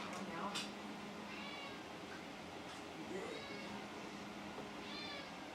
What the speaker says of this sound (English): he's a fluffy meow